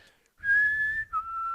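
A person whistles a sustained tune, one long steady note followed by a short break and another held note, close and clear.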